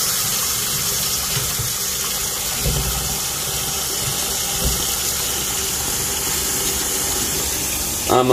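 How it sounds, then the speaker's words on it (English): Tap water runs steadily into a cooking pot for a Southern-style beans dish with bacon, a continuous rushing hiss that holds through the whole stretch, with a few faint low knocks and a brief clatter at the end. "I'm filling it up with some water."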